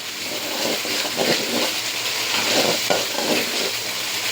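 Fried potatoes go into a koi fish curry in a hot pan, giving a loud, continuous sizzle with rough bubbling and occasional stirring scrapes.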